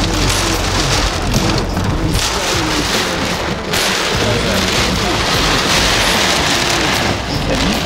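Heavy rain pours steadily and loudly, a dense wash of hissing noise with occasional low rumbles beneath.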